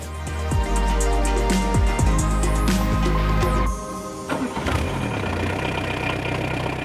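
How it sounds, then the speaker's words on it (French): A Citroën BX car engine cranks with rapid repeated starter strokes, close and loud, then catches and settles into a rough idle, no voices heard. "Ah démarre pas au quart de tour l'auto là, t'as vu?"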